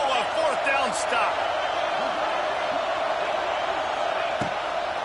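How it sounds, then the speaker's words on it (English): A stadium crowd roars in a college football video game during a Texas Tech at Notre Dame matchup, a dense, steady, loud wall of noise holding unbroken for several seconds. "This crowd busting the decibel meter and trying to will a fourth down stop."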